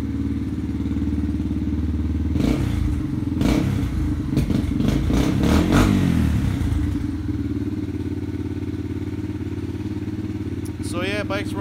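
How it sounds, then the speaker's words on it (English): A Yamaha TTR230 dirt bike engine idles steadily in cold weather, with a few blips of throttle and clattering mechanical thumps in the middle, heard close up with a voice speaking over it. "So yeah, bike's running great, especially in the cold."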